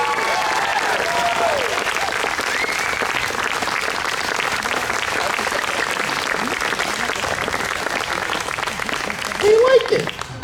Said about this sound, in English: a huge round of applause for putting their whole weekend in to make this free concert happen for you